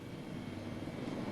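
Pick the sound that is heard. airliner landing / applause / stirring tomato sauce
airliner landing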